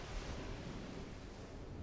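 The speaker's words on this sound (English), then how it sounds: "I'm drawing the sound of the sea" Sea waves wash steadily onto a pebble shore, a soft continuous broadband surf with faint wind, no voices.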